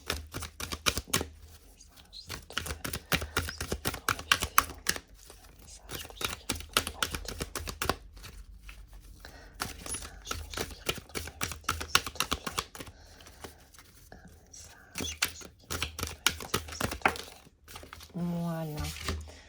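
Rapid riffling of a deck of cards being shuffled, crisp clustered flutters repeating in bursts with brief pauses, fairly close and dry, with no talking.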